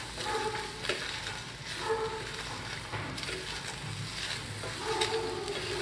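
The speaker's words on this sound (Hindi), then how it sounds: "हम इसमें स्वीट कॉर्न्स ऐड कर देंगे। अब हम इसे थोड़ा सा सॉटे कर लेंगे।" Sweet corn is sautéed in a pan, giving a soft continuous sizzle with the scrape and clatter of stirring at intervals, close and moderately quiet with no talking.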